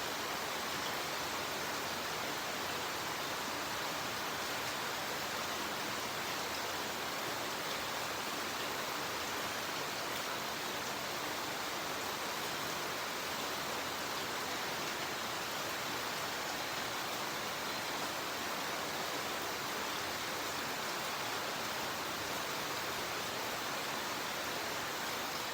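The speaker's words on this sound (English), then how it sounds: "It's raining in country." Steady rain falling in the countryside, a dense, even hiss that stays unchanged and fairly loud throughout, with no voices or other distinct sounds.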